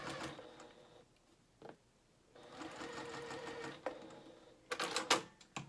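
A sewing machine runs gathering stitches along dress fabric, in close, loud bursts of rapid stitching broken by short pauses, ending with a few sharp clicks.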